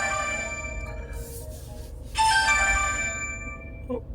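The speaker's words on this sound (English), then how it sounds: "let's let the phone stop ringing" A mobile phone rings indoors with a repeating electronic tone, two bursts of ringing that sound moderately loud and near, with no talking.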